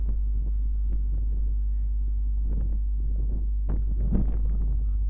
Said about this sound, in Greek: Αρκετός ο αέρας και στο Παλιό Φάληρο